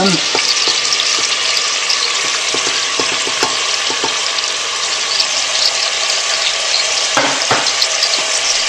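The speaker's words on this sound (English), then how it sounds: "We are now going to put the garlic and onions in." Garlic and onions fry in a pot for a lamb stew with bacon and turnips, giving a loud, steady sizzle with scattered crackles and a few sharper clicks of the pot being shaken.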